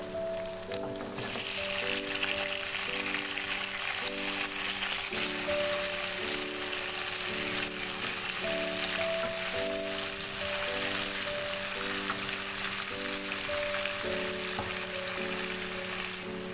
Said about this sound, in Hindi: ज़ीरे को मैंने हल्का सा ऑयल में फ्राई कर लिया है।